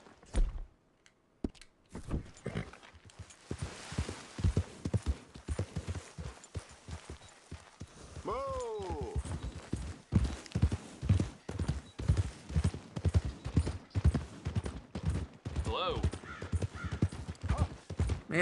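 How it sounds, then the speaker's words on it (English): A large horse in the Red Dead Redemption 2 video game trots with steady, rhythmic clip-clopping hooves throughout. Occasional bird calls sound faintly in the background. "now I got this other horse. It's a bigger horse."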